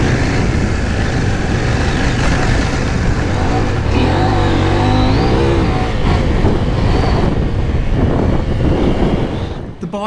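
A 2025 CFMOTO 800 MT-X adventure motorcycle rides hard along a fast, sandy open trail, its engine droning and rising in pitch near the microphone beneath steady wind buffeting.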